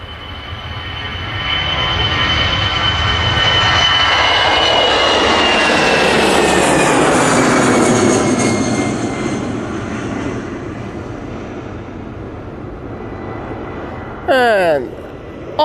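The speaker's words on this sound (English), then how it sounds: "And off goes the Lufthansa." A Lufthansa airliner takes off at Manchester Airport, its engine roar swelling to a loud, sustained rumble and then slowly fading into the distance, with a brief bird chirp near the end.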